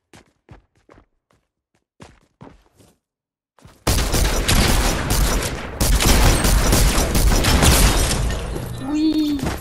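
Infantry rifle fire in a video game starts with a few faint, sparse clicks and then breaks into loud, dense gunfire bursts that run to the end. A brief tonal whine appears near the finish.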